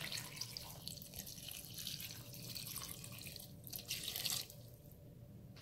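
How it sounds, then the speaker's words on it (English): Water poured into a cooking pot while making a vegan curry bean dish, a steady close splashing pour running several seconds, with no talk over it. "I'm going to add 2 cups of water."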